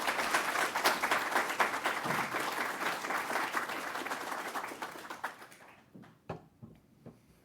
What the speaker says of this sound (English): So let's give a round of applause to Ruth Bissett.